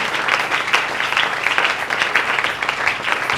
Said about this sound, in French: Acclamons très fort les cœurs du Seigneur.